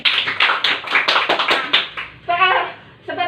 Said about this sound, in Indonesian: Tepuk tangan untuk Fitriani